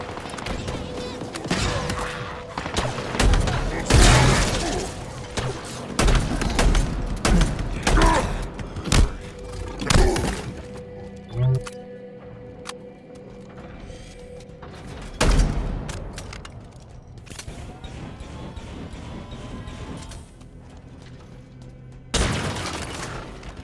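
Halo Infinite combat with gunfire, heavy booms and thuds in irregular bursts and loud impacts spread across the scene, with quieter stretches between them and some voices mixed in.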